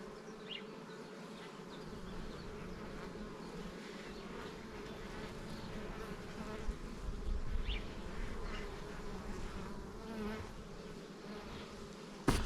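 Honey bees swarm and hum around an open hive while its frames are handled, a dense, steady buzzing that stays close and loud throughout with no voices.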